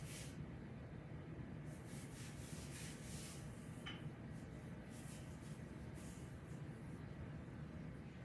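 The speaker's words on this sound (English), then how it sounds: "Taking my rolling pin, I'm going to go ahead and flour my rolling pin, and I'm going to begin to roll out my cookie dough." A rolling pin rolls brown sugar cookie dough out on a mat: a faint, continuous soft rubbing with gentle back-and-forth swells, close but very quiet, with no speech.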